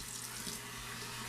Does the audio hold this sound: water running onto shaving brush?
yes